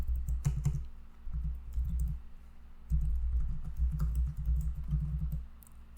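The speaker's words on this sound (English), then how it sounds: "If we type in our credentials" Login credentials are typed on a computer keyboard in quick uneven bursts of close key clicks, with short pauses between runs of keystrokes and no talk.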